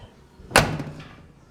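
A truck door on a pickup undergoing a Cummins engine swap swings shut with a single sharp, close slam, followed by a brief metallic ring that fades quickly into quiet.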